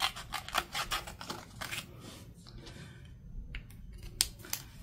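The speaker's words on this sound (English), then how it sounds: "I'm going to use my craft knife" A craft knife cuts out a paper frame for a junk journal. Crisp, rhythmic slicing and snipping strokes come close up in quick bursts, separated by short pauses.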